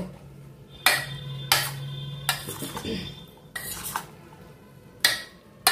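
Boiled jackfruit being mixed by hand with salt, chili powder and gram flour in a metal bowl, giving several sharp scraping clinks spaced unevenly over soft rustling, close and fairly quiet.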